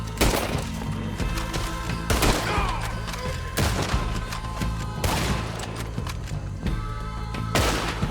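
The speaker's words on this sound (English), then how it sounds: "Shooting!" Rapid gunfire from Red Dead Redemption 2 crackles in repeated bursts and sharp cracks over a dense, loud background of battle noise, with volleys recurring every couple of seconds throughout.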